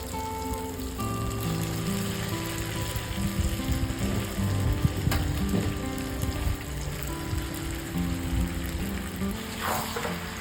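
Fried pointed gourd, potato and shrimp go into hot spiced oil in a pan, setting off a steady, close sizzle and crackle that holds throughout over a faint background drone.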